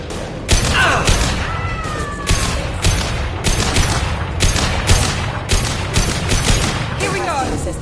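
Repeated loud shots in the video game Mass Effect 2, sharp bursts recurring roughly every half second amid combat effects and a voice.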